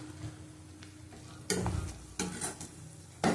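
Whole garam masala spices dropped into hot oil, giving sudden close bursts of sizzle and frying crackle with a few stirring scrapes between quieter stretches.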